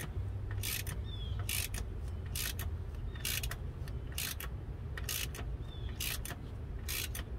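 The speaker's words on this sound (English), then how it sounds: "And then we just took it down with the impact." Impact wrench on a water pump bolt of a 2004 Chevy Trailblazer 5.3L, firing in about eight evenly spaced short rattling bursts over a steady low garage hum, no talk.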